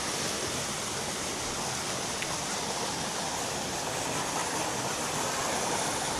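Steady, loud rush of clear stream water flowing over rocks outdoors in a nature spot, a continuous broadband wash with no pauses and no voices.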